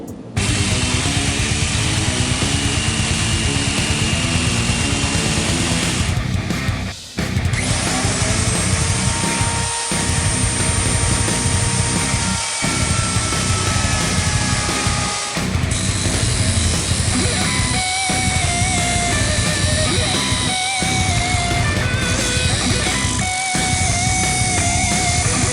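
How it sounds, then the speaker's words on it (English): A jigsaw cuts through birch wood in a continuous loud, buzzing rasp of reciprocating blade. It runs in long passes broken by brief pauses every few seconds, close to the microphone, with no talk. "I'll go ahead and use my jigsaw and get to cut."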